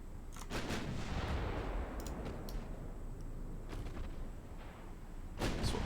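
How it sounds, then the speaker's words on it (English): Naval ship guns fire in the warship game Ultimate Admiral Dreadnoughts, with repeated booming shots and sharp cracks over a steady, dense roar of battle noise. "Why are you shooting at them?"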